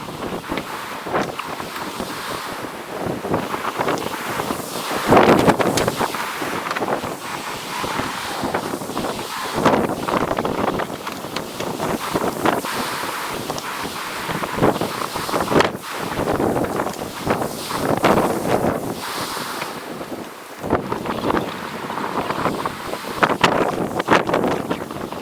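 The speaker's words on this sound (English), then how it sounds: "As you'll be able to hear once I stop talking, it was super windy up here." Strong wind buffets the microphone on an exposed mountain top, a loud, continuous rumbling roar with gusty surges and brief dips, no voices heard.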